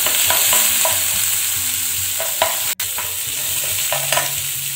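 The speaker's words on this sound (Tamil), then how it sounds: "இப்போ கடுகு பொரிஞ்சிட்டு கொஞ்சம் காஞ்ச மிளகாய் கருவேப்பிலை போட்டுடலாம்." Mustard seeds, dried chillies and curry leaves fry in hot oil for Navaratri sundal, giving a steady close sizzle with soft crackles, stirring scrapes and a brief dropout partway through.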